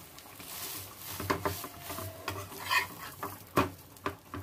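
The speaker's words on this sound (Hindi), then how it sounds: "ग्रेवी हमारी उस साइड पे उबल रही है" Gravy bubbles and sizzles in a pan while a sandwich cooks alongside, a steady frying hiss broken by scraping stirs and sharp clinks of a utensil against the pan.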